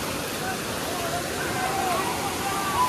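A waterfall rushes in a steady broadband roar at a crowded spot, with people talking and calling faintly over the water throughout.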